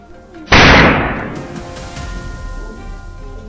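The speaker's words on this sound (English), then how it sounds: "a decisive gunshot rang out as soon as the boar's body came to clear view." A single loud gunshot cracks out at close range in the woods, fired at a wild boar foraging among trees near a tomato farm, followed by a decaying echo that rolls on for several seconds.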